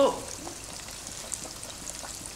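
Chicken pieces for chicken broast fry in oil over low heat, a soft, quiet bubbling sizzle with faint crackles following a brief initial clatter.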